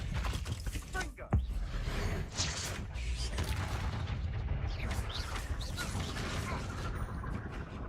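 Rapid blasts and impacts from the Confringo fire spell in the video game Hogwarts Legacy, dense and continuous with one sharp thump near the start, under a busy mix of game effects.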